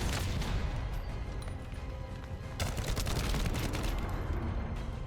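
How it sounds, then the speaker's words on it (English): Continuous video game gunfire in The First Descendant, fairly quiet overall, with a steady wash of rapid shots and occasional sharper cracks. "I'm just firing through everything at the moment."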